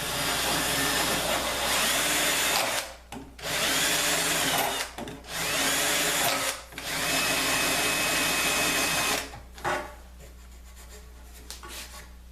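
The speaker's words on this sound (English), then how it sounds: "the other side, you just reverse the bit with a sander" Power sander with a reversed bit shaping a wooden pool cue rack, a loud, steady grinding whir in several long bursts separated by short pauses, close up with no talking.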